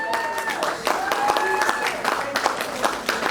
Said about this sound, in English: Come on, clap for Jesus.